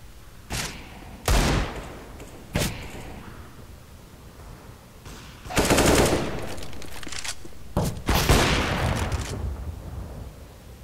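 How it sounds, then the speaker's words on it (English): Counter-Strike: Global Offensive match with separate loud bursts of gunfire and a grenade blast, short sharp shots early, then longer rattling volleys and a booming burst later, set against quiet gaps and no talk. "Grenade out."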